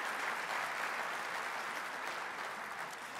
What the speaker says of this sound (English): Now let's give our council, our city staff, and our community volunteers a round of applause.